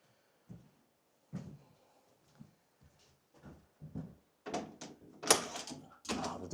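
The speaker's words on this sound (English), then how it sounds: "Oh, the door's locked." Someone tries a locked door at an old house in Great Smoky Mountains National Park, making a quiet series of scattered knocks and rattles that build to a few louder clunks of the handle near the end.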